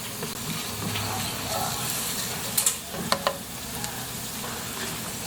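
Garlic and onion hit hot oil with ginger in a frying pan, a steady loud sizzle with a few sharp clinks of the utensil as they are stirred.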